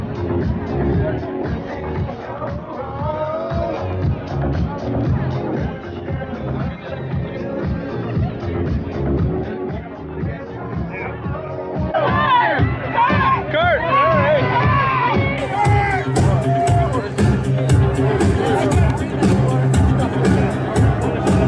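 A large, noisy crowd mills around the red carpet at the 2022 NASCAR Wise Power 400, with steady babble, scattered shouts and cheers rising louder in the second half, and voices chattering up close throughout.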